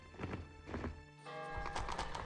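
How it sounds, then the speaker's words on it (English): Light horse units clip-clopping in a strategy video game, a steady run of hoof taps with whinny-like calls over a busy layer of game music and effects, no talk. "And Sermon is going to go and send these light horses off on a quest."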